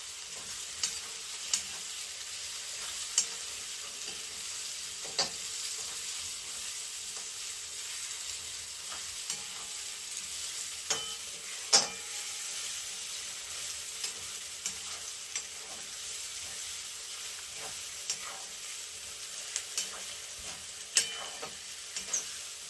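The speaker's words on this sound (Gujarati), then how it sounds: "વટાણા, ડુંગળી અને લીલા મરચાં એ હરખું વ્યવસ્થિત રીતે સડી જવા દઈશું આપણે એને" Green chillies, peas and onion fry steadily in a pan for Maggi, a continuous soft sizzle with occasional louder crackles and stirring scrapes, close by and alone.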